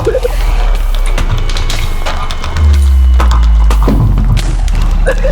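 A grenade explodes in the Free Fire shooting video game with a heavy, booming thud midway that lingers as a deep rumble, over a constant bed of game noise.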